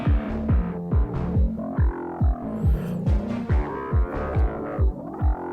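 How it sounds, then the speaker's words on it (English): Big throbbing synth from a track, pulsing in a steady rhythm of heavy low hits about twice a second, each swept down in pitch under a bright, shifting upper layer. "It's a big synth sound, but the song doesn't feel huge."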